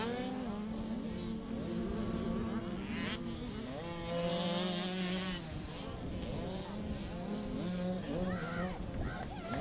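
Small 85cc Supermini motocross bikes ridden by kids buzz and whine around the track, engines rising and falling at a middle distance under a race announcer's steady commentary.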